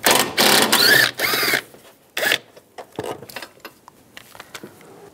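A bolt is worked loose on a 1998–2010 Volkswagen Beetle during a starter replacement: bursts of fast ratcheting come first, then scattered light metallic clicks and taps, close and fairly quiet.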